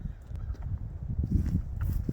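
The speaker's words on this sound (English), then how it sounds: "I got birds." Geese honking outdoors on a winter lawn during a mulch job, a cluster of harsh honks and calls overlapping at moderate volume with no talking.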